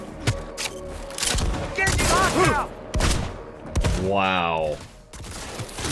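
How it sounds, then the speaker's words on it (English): Smart shotgun firing in the Cyberpunk 2077 video game: several loud booming blasts with swept, whirring tails, followed by a player's brief exclaimed reaction. "It's a smart shotgun."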